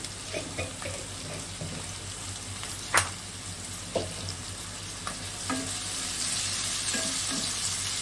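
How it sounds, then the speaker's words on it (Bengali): Chicken pieces frying in a pan for chilli chicken give a steady, close sizzle, with a few sharp clinks and scrapes of stirring scattered through it. "ভাজা ভাজা মোটামুটি হয়ে এসেছে।"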